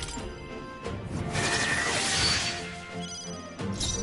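A smash attack landing in Metaphor: ReFantazio: one loud crashing impact that swells and fades over a couple of seconds amid game effects, followed by a sharper hit near the end.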